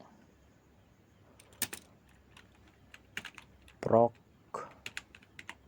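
Keystrokes on a computer keyboard as a shell command is entered: scattered clicks and short bursts of typing, moderately close, with a few words spoken partway through.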